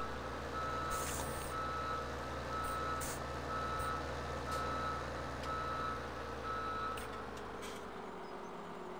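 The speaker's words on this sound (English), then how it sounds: "You can hear that excavator moving around the background." Reversing beeps pulse in a steady, evenly spaced run from an excavator moving around some distance off, over a continuous low engine rumble, with no one talking.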